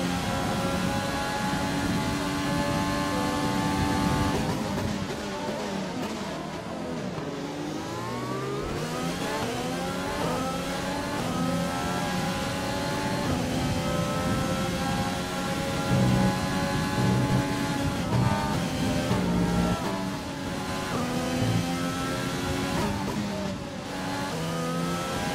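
F1 race car engine in the F1 2020 video game at the USA circuit, a loud continuous high-pitched whine with rising and falling revs through gear changes, several cars' engines layered together with brief tire squeal.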